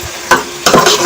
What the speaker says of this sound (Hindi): मैं इसमें गोभी ऐड कर रही हूँ।